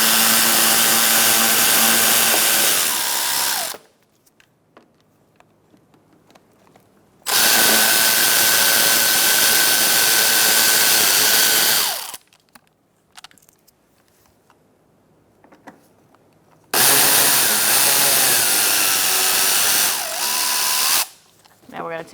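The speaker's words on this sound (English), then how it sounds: "Using a T20, we're going to remove these screws as well." A power driver with a T20 bit removing screws from the inner fender liner of a 2013–2022 Buick Encore, three loud sustained whirring bursts separated by quieter pauses with small clicks and handling noise.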